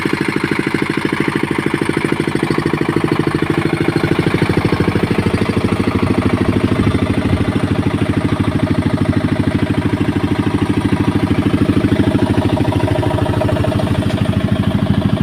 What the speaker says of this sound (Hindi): तो अभी इंजन चला कर देख रहे हैं।